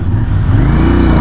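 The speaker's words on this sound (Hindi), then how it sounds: "So what I do is let's start the bike." A Royal Enfield Interceptor 650 motorcycle's engine starts and runs on, giving a loud, close, steady low-pitched rumble with a faint clatter and no talk over it.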